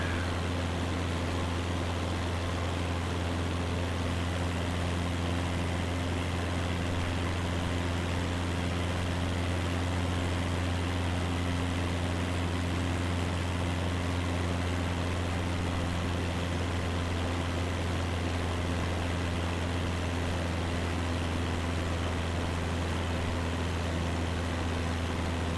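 Steady, unbroken drone of an aircraft engine in Microsoft Flight Simulator 2020 on a Balkans bush flight, a constant hum with a low throb holding at even loudness throughout, no voices.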